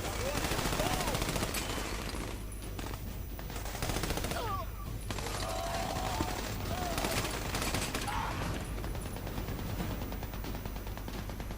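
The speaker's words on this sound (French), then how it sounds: "Contourne la mitrailleuse." Rapid machine gun fire fills a firefight in the video game Army of Two, with dense, continuous bursts of automatic shots rattling on and off throughout, loud and close.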